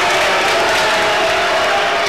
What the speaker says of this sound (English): the crowd absolutely does not like that one